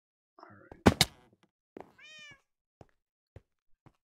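Cats in a video game give a couple of loud close meows followed by a higher drawn-out mew, separated by silence and sharp isolated clicks, with no talk over them.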